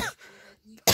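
A woman coughs once or twice nearby. Short harsh bursts come at the start and again at the end of a moment of quiet, with no talking.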